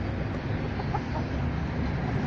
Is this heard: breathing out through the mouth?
no